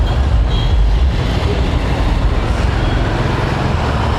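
Road traffic stuck in a city jam, heard from a motorbike rider's position, gives a steady broadband rumble of car, truck and bus engines at constant loudness throughout, with no horns or voices standing out.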